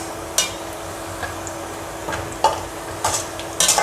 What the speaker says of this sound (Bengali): পেঁয়াজ অলমোস্ট ভাজা হয়ে গিয়েছে দিয়েছি রসুন জিরা